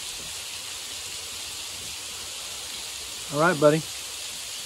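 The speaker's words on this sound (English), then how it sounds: "Hear that waterfall back there?" A waterfall near Lake Cumberland produces a steady, even rushing hiss in the background throughout. Someone briefly speaks near the end.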